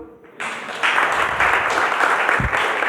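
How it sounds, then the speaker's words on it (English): Applause from a seminar audience for a presenter bursts in after a brief quiet start, then holds as a dense, steady clatter of clapping for the rest of the few seconds, with a low thump near the end. "A round of applause for him."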